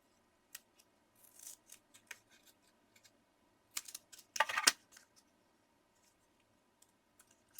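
Scissors snip through card while making an Easter card, giving a few quiet, sparse cuts and clicks nearby with a short burst of snipping in the middle, otherwise near silence and no voices.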